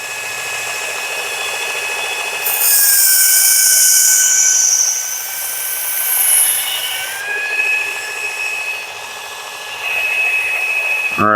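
A blue-handled Ozark Trail knife being sharpened at about 18 degrees per side on a powered sharpener: a steady high whine with grinding surges that rise and fall in a few long passes, no talking.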